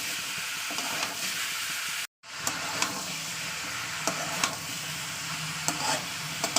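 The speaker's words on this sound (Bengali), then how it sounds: "ভালো করে লাউ আলুটা কষিয়ে নেবো মশলার সঙ্গে" Bottle gourd and potato fry with spices in a pan, a steady close sizzle with occasional scrapes and taps of a stirring spoon, interrupted by a brief dropout of silence early on.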